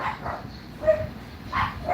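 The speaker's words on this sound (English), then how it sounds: "Now for him to be barking." A dog barks in a few separate bursts in a room, fairly close and moderately loud, with quiet background and no speech.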